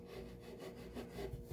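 Hand file rasping across the edge of a mahogany viola top plate, steady close back-and-forth scraping strokes, quiet and continuous.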